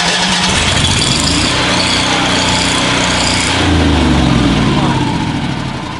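Miller Bobcat 260 welder generator engine cranks and runs, a steady mid-pitched drone that swells louder partway through and eases near the end, with a voice talking over it.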